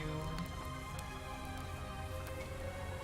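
The Soothing Rain spell in the fantasy game Arcanium: Rise of Akhan gives a faint, steady hiss of rainfall that runs continuously beneath quiet game music.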